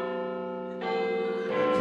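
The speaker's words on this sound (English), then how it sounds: "Exterior Big Ben continuous. Big Ben chimes." The Big Ben clock tower bell chimes in sustained, ringing tones. Each new strike enters at a higher pitch, and the sound grows slightly louder across the short stretch.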